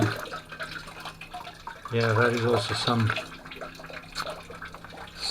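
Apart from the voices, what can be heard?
water running into a garden pond being dug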